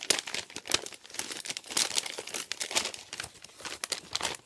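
Paper wrapping from a mail package is unwrapped and crinkled by hand, giving steady close crackling and rustling with occasional sharp crunches and no talk.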